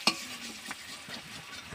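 Cut onion, taro and potato go into a hot pan and are stirred, giving a soft sizzle with a sharp clink of utensil at the start and quiet scraping after.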